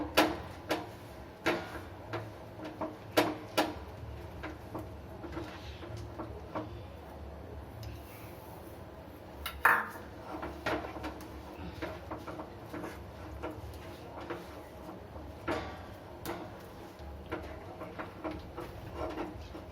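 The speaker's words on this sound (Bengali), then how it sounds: "বন্ধুরা এইভাবে আমি মেশাবো আর অল্প অল্প করে তিল দেবো" Sesame seeds stirred into a pot for Bengali til naru, a run of soft scraping and knocking taps against the vessel at an uneven pace, fairly quiet and close, with no talking.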